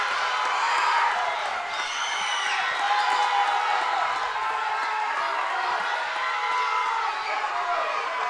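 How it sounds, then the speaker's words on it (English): A large crowd cheers and whoops continuously at a powerlifting meet, a loud, dense roar of voices that never lets up. "Listen to this crowd."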